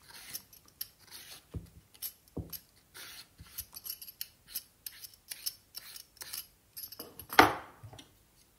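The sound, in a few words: peeling a cucumber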